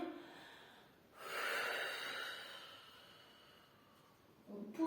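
A single long, deep inhalation during a mobility exercise, close and clear, rising in the middle and fading out, with a short breath sound starting at the end.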